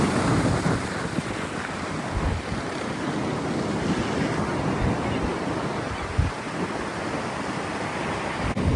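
Ocean surf breaking and washing on a windy beach, a continuous broad roar with occasional heavier surges and buffeting wind noise on the microphone, no voices.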